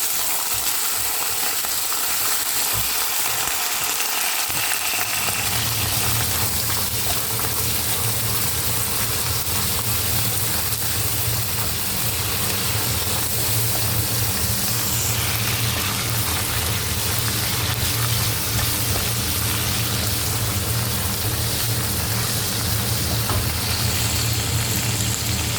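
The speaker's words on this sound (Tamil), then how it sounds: "சின்ன வெங்காயம் பூண்டு போட்டு நல்லா வதங்கணும்." Small onions, garlic and curry leaves sizzle steadily in hot oil in a pan, a continuous loud hiss and crackle that runs without pause throughout, with no voices.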